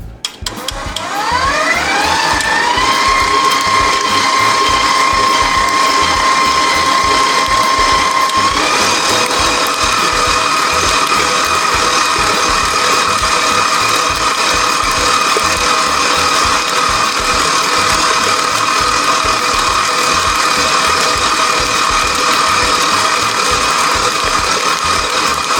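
An electric mixer beats Oreo pound cake batter with a steady, loud motor whine that rises in pitch early on, then runs on evenly with a slight shift partway through.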